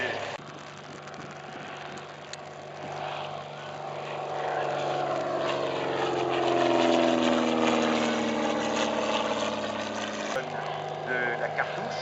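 A steady engine drone builds in loudness and pitch as engines warm up at an event in Belvès, France, holding a rough mechanical roar before dropping back slightly near the end.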